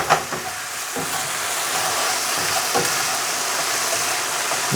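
King prawns sizzle loudly in a hot pan as they are tossed, giving a dense steady hiss broken by a few scraping stirs.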